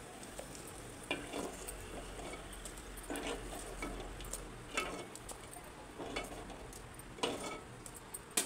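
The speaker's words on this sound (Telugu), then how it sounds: "ఎల్లిపాయలు ఇలా నూనెలో వేయించుకోవాలి." Garlic frying in oil in a pan for a mutton fry gives a soft, low sizzle, with a few faint clinks and scrapes of stirring scattered through at a quiet, close distance.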